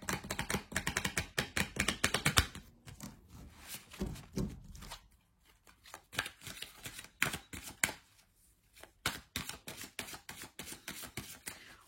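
Oracle cards being shuffled for a reading, a quick flurry of crisp, close papery riffles and taps in bursts with short pauses between them, with no voice.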